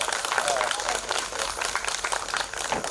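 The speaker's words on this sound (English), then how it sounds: "So again a big clap for that." Audience at a school awards ceremony clapping together, a fairly loud, busy patter of many hands continuing steadily for the whole stretch.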